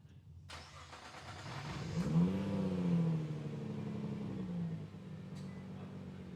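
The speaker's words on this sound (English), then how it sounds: "Rev it up a little bit." A 2017 Nissan GT-R fitted with an ETS Y-pipe revs up from idle, its engine note rising and swelling for a few seconds before settling back to a steady, close idle.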